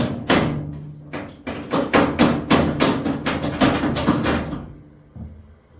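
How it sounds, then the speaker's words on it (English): Rapid metallic hammer blows on a bent metal part of a mini F150 build, a dozen or so sharp strikes in quick succession, close and loud, then a couple of final taps. "I think I'm gonna have to use a hammer"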